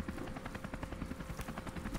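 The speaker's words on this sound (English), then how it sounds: "Well, there's the helicopter." A helicopter in Call of Duty 4 Remastered chops with a rapid, steady rotor thump, loud and close, with faint gunfire mixed into the din.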